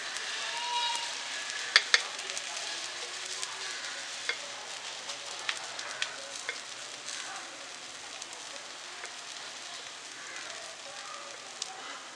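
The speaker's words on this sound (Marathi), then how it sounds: "हे आपण छान असे भाजून घेऊया." Maharashtrian dhapate flatbread roasting in oil on a hot pan gives a steady soft sizzle, with a few brief clicks and taps of a utensil scattered through.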